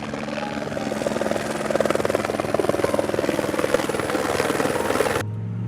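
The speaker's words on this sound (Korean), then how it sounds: "모래 사막 바로 위를 맴돌고 있는 오렌지색 구조 헬리콥터가 이륙을 준비하고 있습니다." An orange rescue helicopter hovers low over open desert sand, its steady rotor chop and engine whine droning loudly and continuously before cutting off abruptly near the end.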